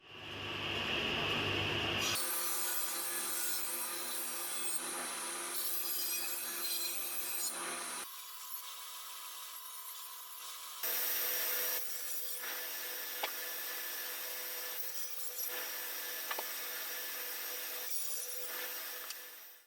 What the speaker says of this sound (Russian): Станок я уже настроил таким образом, чтобы вылет пилы составлял 10 мм